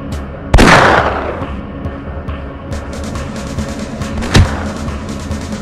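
Two sharp, booming sniper rifle shots in a Half-Life Opposing Force boot camp range, one near the start and another about four seconds later, each with a ringing decay over a low ambient hum.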